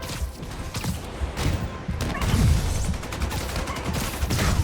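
Gunfire in Spider-Man Remastered: a dense, continuous volley of rapid shots and impacts, loud and close, sustained across the whole stretch with rough crashing texture.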